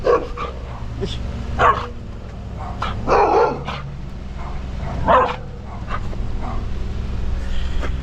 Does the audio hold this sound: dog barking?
yes